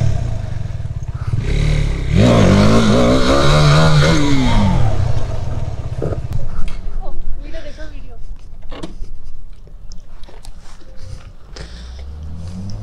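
A motorcycle ridden hard at over 100 speed with wheelies, its engine surging loudly and rising in pitch before easing off, as the rider talks over wind rush and road noise.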